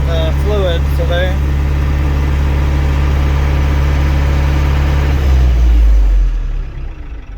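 A New Holland 4835 four-cylinder 65 horsepower diesel tractor runs with a loud, throbbing low rumble that holds steady, then dips and fades toward the end, with some brief squeaky sounds early on.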